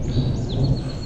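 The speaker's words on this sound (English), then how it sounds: "got some good thunder." Deep, rolling thunder from an approaching storm rumbles steadily and loudly for a moment, low and sustained with no talking over it.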